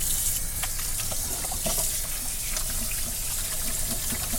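Hot tap water runs in a steady gush into a sink, rinsing slime off a live eel being cleaned for eel donburi, with occasional small clinks and splashes over the continuous flow.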